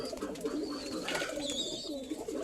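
Imported double pair of pigeons, a type some call Tiger Beat, coo steadily and close by, their soft throaty calls overlapping with a few faint chirps from other birds in the loft.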